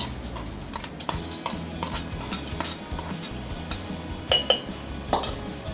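Tempering stirred into curd rice in a bowl, a spoon repeatedly scraping and clinking against the dish in an irregular rhythm, close and fairly loud.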